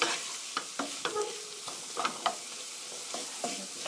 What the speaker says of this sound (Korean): 토마토는 많이 안 볶아도 되니까 살짝만